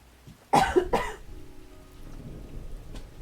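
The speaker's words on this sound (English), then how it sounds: "Sorry that I'm still coughing so much" Two sharp, close coughs in quick succession, followed by a quiet room with a faint low hum.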